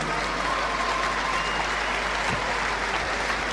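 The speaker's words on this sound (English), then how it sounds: "Give a nice round of applause." Steady, dense applause from a boxing crowd fills the hall after a 1992 professional bout, a broad continuous wash of clapping with no break, moderately loud throughout.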